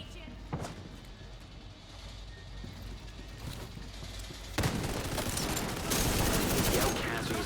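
Gunfire in Tom Clancy's The Division 2, a dense stream of shots that turns louder and heavier midway, with a voice shouting over the start of the exchange.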